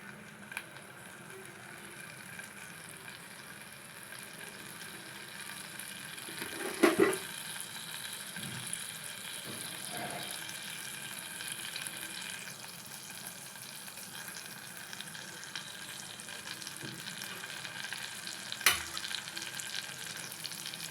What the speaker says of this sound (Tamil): இப்போ பேனில் பட்டர் போட்டுக்கலாம்.